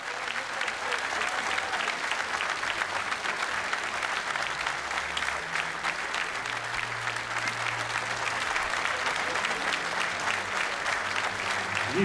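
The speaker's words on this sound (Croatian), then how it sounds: "zato vas molim da večeras jednim dugotrajnim, spontanim i lijepim aplauzom pozdravimo čovjeka koji je večeras sa nama, Zoran Vujičić!" Audience at a professional boxing arena event in Herceg Novi applauding in a long, sustained wave of dense clapping that stays steady and full from start to finish, without speech over it.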